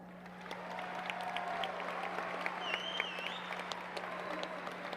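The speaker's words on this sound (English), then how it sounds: "Let's give each of these exceptional students a round of applause" A graduation audience claps at a distance, a soft wash of steady applause with a few sharper claps and faint cheers over a constant low electrical hum.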